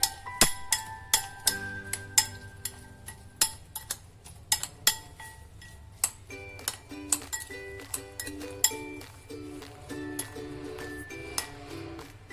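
Chili rings being mixed with salt and lemon juice in a bowl, giving a steady run of sharp clinks and ringing taps of a spoon against the bowl, close and clear, with no talk.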